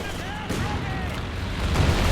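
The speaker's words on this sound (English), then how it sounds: "So, bombs going down here" Bombs strike in the real-time strategy game Company of Heroes 2: a dense, rumbling barrage of distant blasts and crackling fire that swells toward the end, with a voice faintly present underneath.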